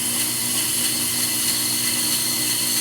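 A brake lathe cuts an expensive brake rotor, giving a steady, loud metallic whine and grinding hum that runs evenly throughout without pause.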